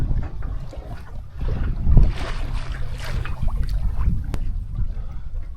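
A sailboat day sailing on the Chesapeake Bay, with wind buffeting the microphone, water rushing and slapping against the hull, and occasional creaks and knocks from the boat, gusting up and down with no talking.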